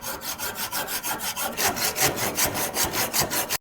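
Hand saw cutting through a stuck bicycle part in rapid, even back-and-forth strokes, loud and close, about a dozen rasping pulses in a steady rhythm with no voices.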